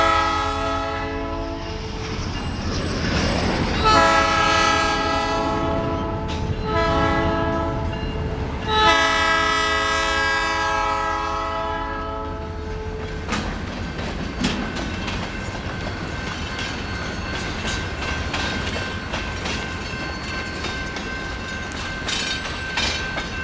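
A freight train passes near Fresno Yosemite International, sounding repeated loud horn blasts over the rolling clatter of wagons, then continuing as a quieter rumble as it moves on.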